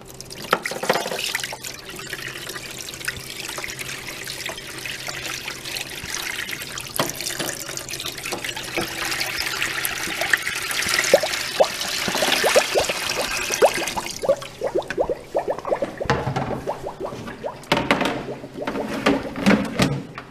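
Sanitizing solution poured into a SaniServ milkshake machine, a steady watery splash and trickle with dripping, continuous for most of the stretch before thinning into scattered drips near the end.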